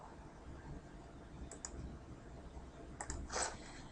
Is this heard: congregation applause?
no